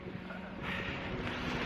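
Steady wind buffeting a microphone while cycling into a headwind in southern Scotland near Gretna, a continuous low roar that swells louder after the first half second, with no talk.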